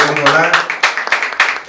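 Scattered hand clapping from an audience at a certificate-awarding ceremony for a ten-day personality development and announcing training course, a quick run of sharp, fairly close claps with a voice speaking over them.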